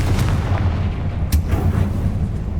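A Confringo spell explosion in the video game Hogwarts Legacy, a deep booming blast with rumbling low-end crackle, loud and close, with a sharp burst partway through and no talk.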